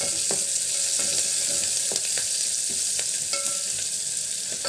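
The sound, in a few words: frying and stirring curry leaves, onion and garlic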